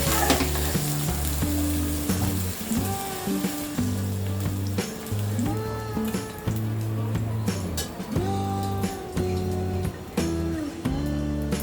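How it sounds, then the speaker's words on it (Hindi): Paneer frying in a pan, a steady close sizzle with stirring clatter, alone with no talk. "पनीर भी फ्राई हो गया है, इसे भी हम प्लेट में निकाल देते हैं।"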